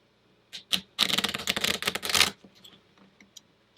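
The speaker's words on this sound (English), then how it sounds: "Let me give it one more shuffle here." A deck of new playing cards being shuffled at home, with two short riffles followed by a dense, loud burst of rapid card flutter lasting over a second, then quieter handling taps.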